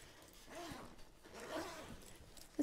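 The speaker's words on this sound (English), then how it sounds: "The zippers goes all the way down," A Ju-Ju-Be Mini Bee diaper bag zipper is drawn open in a few quiet, raspy pulls, faint and close, ending with a small click.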